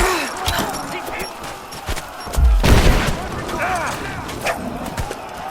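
Gunfire in a Rise of the Tomb Raider firefight: bursts of shots and a heavy boom crack through a noisy battle scene, with soldiers' shouted voices mixed in around the shooting.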